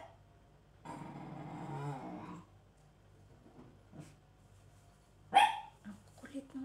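Pet dog barking indoors, a drawn-out bark or howl near the start, then a sharp, loud bark later followed by a couple of softer yelps, with quiet pauses between.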